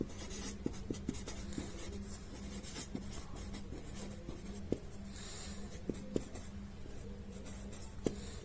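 A maths solution using Pythagoras' theorem is handwritten, producing soft continuous scratching with occasional light taps of the writing tip, close and quiet, with no voice.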